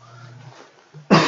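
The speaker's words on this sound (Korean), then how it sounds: "기침이 다 나오네요." A person coughs once, loud and close, right after a few faint, low murmured sounds, with the cough cutting off the quiet abruptly.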